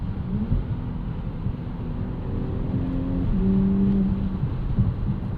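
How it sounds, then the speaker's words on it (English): A 2025 Audi SQ5 turbo V6 engine hums steadily with a low, even drone, its pitch shifting slightly as it revs and the 7-speed S-tronic changes gear, with no one speaking. "It makes a cool sound, this car."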